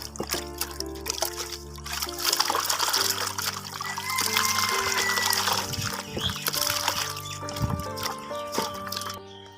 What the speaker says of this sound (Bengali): মাছগুলো ধুয়ে নিতেছি